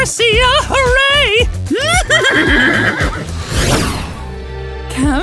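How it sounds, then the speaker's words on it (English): A cartoon horse whinnies loudly several times in a row, the rising and falling neighs close and clear over a busy comedy-sketch soundtrack with background music. "Giddy up, horsey!"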